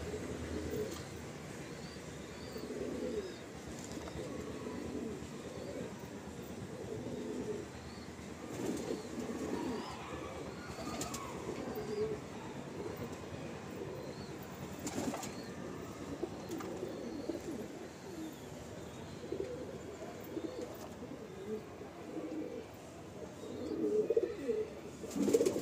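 Loft pigeons, hens among them, coo softly and repeatedly in a low murmur, with occasional faint chirps and wing rustles.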